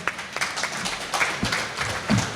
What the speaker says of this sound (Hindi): जोरदार तालियां, एक बार तालियां जोर से।